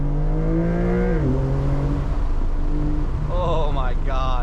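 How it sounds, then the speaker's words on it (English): A Porsche 911 Targa 4 GTS (992) launching with launch control, its engine note climbing steadily through rising harmonics and dropping at gear shifts, loud and continuous from inside the cabin. "Porsche makes the easiest launch control system around, and we're gonna demonstrate that right now."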